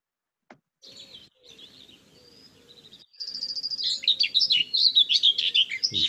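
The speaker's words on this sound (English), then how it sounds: "What we're going to listen to now is the white throat song" A whitethroat sings a short, scratchy warbler song. Brief thin notes come first, then a louder burst of rapid, harsh, descending phrases, clear against a quiet background.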